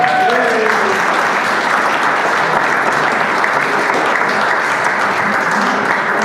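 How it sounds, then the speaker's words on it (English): A crowd applauds an honoree at a community awards program, steady dense clapping filling the whole stretch at close, loud level, with some voices mixed in early on. "just give her a round of applause"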